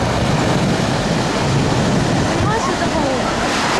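Sea waves wash in at the shore of a beach at Mirny in Crimea, a loud, continuous broadband rush mixed with wind buffeting the microphone.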